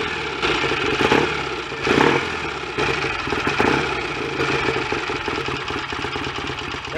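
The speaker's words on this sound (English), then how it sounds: "I'm going to carry on warming the engine up" A BSA A65 motorcycle engine idles while warming up, its uneven, throbbing beat loud and close with a few brief blips of throttle, the bike being checked for vibration and harshness felt through the handlebars.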